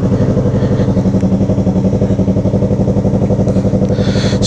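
A Yamaha MT-03 motorcycle fitted with a full 2-into-1 Atalla exhaust in 304 stainless steel, 2.5 inches, idles close by with a loud, even, rapid pulsing throb, alone without talk.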